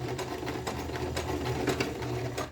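Sewing machine running a short backstitch while sewing a child's princess-neckline leotard, a close, steady mechanical whir with rapid regular needle pulses throughout, alone without speech.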